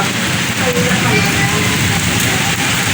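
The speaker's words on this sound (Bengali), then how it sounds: "মুসুলধারায় বৃষ্টি পড়ছে এটাকে বলে বৃষ্টি" Heavy, steady downpour during a Kalbaishakhi storm, a loud, dense hiss of rain drumming on surfaces that continues unbroken from start to finish.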